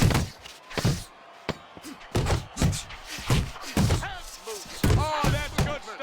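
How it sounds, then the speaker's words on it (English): Heavy punches landing in the Fight Night Champion boxing video game, a series of sharp, loud thuds and slams in uneven rhythm, with a commentator's voice and crowd noise running underneath. "A crushing 2-punch combo by Diesel."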